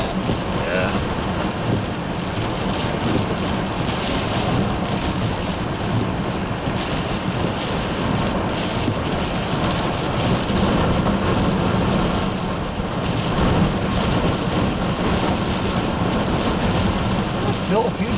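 Hurricane Nicholas, a Category 1 storm striking Matagorda, Texas, near the edge of its center: strong wind gusts and heavy rain make a loud, steady, broadband roar that surges now and then for the whole stretch.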